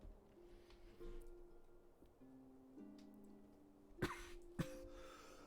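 Two sharp coughs burst out near the end, close and loud, after a stretch of quiet background hum.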